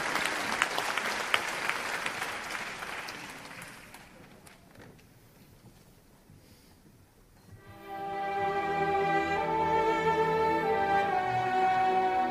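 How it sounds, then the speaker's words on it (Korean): Audience applause welcoming a tenor at a company anniversary charity concert, loud broadband clapping for the first few seconds, then fading to near quiet before orchestral music begins. "큰 박수로 맞이해주세요"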